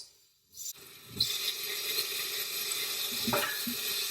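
Onions and tomatoes hit hot oil in an Instant Pot and start a bright, steady sizzle after a brief quiet moment, with a few soft stirring clunks mixed in.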